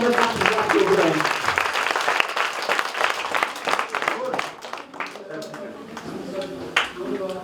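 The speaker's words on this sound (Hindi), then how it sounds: "तो जोरदार तालियों से ज़ुहूर अहमद राफिर साहब को बुलाएं" Audience at an educational music and theatre workshop applauding to welcome a speaker, steady clapping from a crowd that gradually thins out toward the end.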